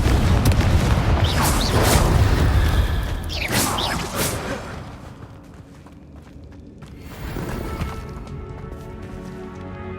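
Explosion spells Bombarda and Confringo in the video game Hogwarts Legacy, with heavy deep booms and crackling bursts that roll out in succession, then fade into quieter rumbling before another softer blast.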